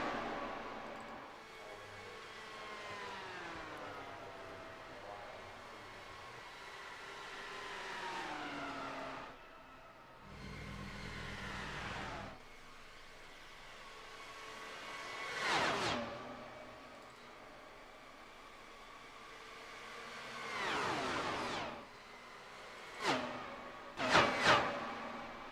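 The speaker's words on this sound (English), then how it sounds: "The beautiful sounds of those engines there, the Dallara" Dallara race car engines scream around Pocono Raceway in a DART series race, several cars rising and falling in pitch as they approach and pass, with sharper close pass-bys near the end and no talk.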